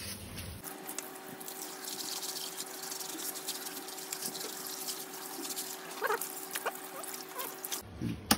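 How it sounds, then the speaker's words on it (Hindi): Split AC air filters being rinsed under running water, a steady wash of flowing water over the mesh with a faint constant hum in the background and occasional splashes, no talking. "फिर इनको वॉश कर लेना आप पानी से इस तरीके से"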